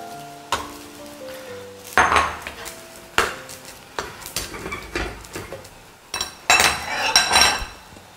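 Tofu goes into a pan with oyster sauce amid clanks of a utensil against cookware and faint sizzling, several sharp knocks and scrapes in uneven rhythm, close by.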